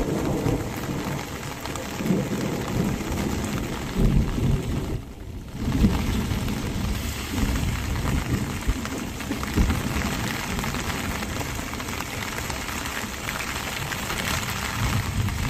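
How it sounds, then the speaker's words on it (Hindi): Heavy rain pours steadily during a thunderstorm in the Delhi-NCR and Haryana region, with low thunder rumbling beneath the dense, continuous hiss of rainfall, loud and close throughout with no voices. "किस तरह से गरज और चमक के साथ बारिश देखने को मिली है"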